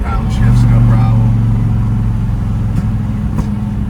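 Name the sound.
1971 Dodge Dart 340 four speed engine downshifting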